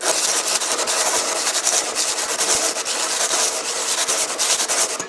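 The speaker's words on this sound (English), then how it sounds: "I'm gonna put new sandpaper often so I can get maximum grinding, so it sand much quicker." Steel axe head hand-sanded with fresh coarse emery cloth, a dense rapid scratchy rubbing in quick back-and-forth strokes, close and continuous with no pauses or talking.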